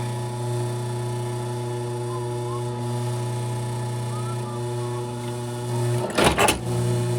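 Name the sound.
sewing machine stitching an alligator leather shoe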